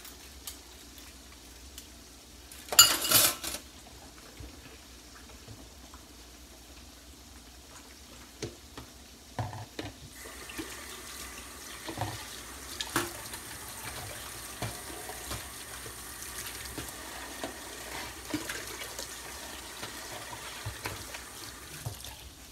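Water running from a kitchen tap into a sink while a few dishes are washed, with a brief louder splash early on and steady light clinks and trickling throughout.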